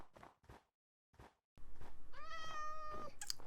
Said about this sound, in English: There's a kitty up here.